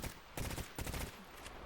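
Gunfire in the game S.T.A.L.K.E.R. GAMMA during a Pripyat raid: two or three quick bursts of shots, fairly soft in the mix, followed by a fading tail with no talking.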